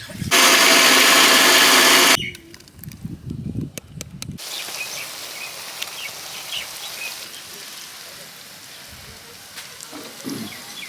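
An electric mixer grinder whirs loudly for about two seconds, grinding soaked melon seeds into paste for a dhaba-style chicken curry, then cuts off, leaving quieter kitchen handling noises.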